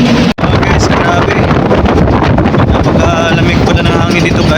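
Strong, cold wind on a mountaintop buffets the microphone in a loud, continuous roar with gusty rumbling throughout and no clear voices.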